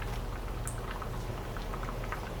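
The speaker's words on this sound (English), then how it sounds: "So bring it up to a simmer and allow it to cook." Pot of curry channa with greens bubbling at a simmer, a dense steady patter of small bubbles and pops, close and continuous, no voices.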